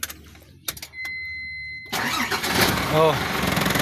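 A truck engine cranks and catches after a few quiet clicks and handling noises, then settles into a rough, loud idle that rumbles on to the end, with someone talking briefly before it starts.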